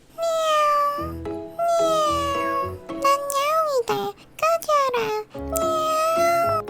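A cat meows repeatedly and loudly up close, a series of long, drawn-out meows with rising and falling pitch.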